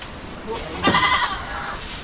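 Two goats on a Filipino farm with cattle bleat once in a short, clear nasal call near the middle, over quiet ambient background with no talk.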